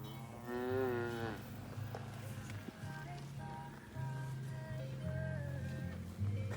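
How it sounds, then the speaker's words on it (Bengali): Several cows moo in long, drawn-out calls, one after another, grazing on a steep European mountainside against an open outdoor background with faint voices. "পাহাড়ের উপরে কি খাড়া একটা অবস্থাতে গরুগুলি ঘাস খাচ্ছে"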